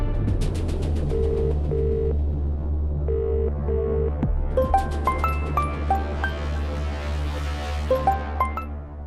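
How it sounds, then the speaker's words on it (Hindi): A telephone call being placed: a steady ringback tone pulses in repeated pairs over a low hum, followed by a run of rising and falling electronic beeps, all close and clear with no voices. "दुआ का फोन लो और हैदर को फोन लगाओ"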